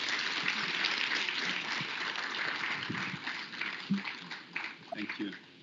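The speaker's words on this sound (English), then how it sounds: "Please give him a very warm round of applause." Warm audience applause greets a group chief executive officer at a corporate event, a dense wash of clapping that holds steady, then thins out into scattered claps near the end.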